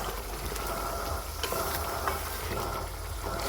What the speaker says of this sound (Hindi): मैं अच्छी तरह चिकन को भून लूँगी